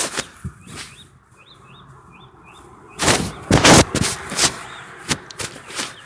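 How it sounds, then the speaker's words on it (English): A bird's wings flap in a few quick soft bursts, followed by louder rustling thumps as it flies over and lands in a tree, with faint chirps in the background. "And the bird flies"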